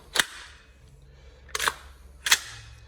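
Tokyo Marui M4 MWS gas blowback airsoft rifle firing on a quick gas magazine: three separate sharp cracking shots with metallic clacks of the bolt, spaced over about two and a half seconds, close and fairly loud.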